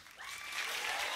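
Applause cued by an applause sign during a 7 Days to Die gaming episode swells quickly into a steady wash of clapping, with a faint tonal sound at the start.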